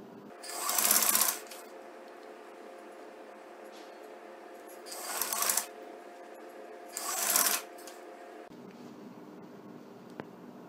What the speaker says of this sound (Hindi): इस तरह सिलाई लगाते जाएं